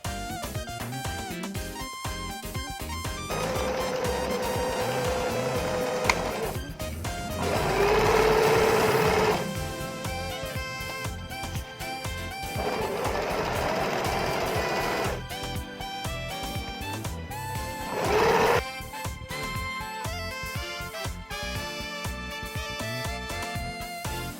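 A sewing machine stitches blouse fabric in two long, steady whirring runs with short pauses between them and brief higher-pitched bursts near the end of each run. It is close and clear, with no talking.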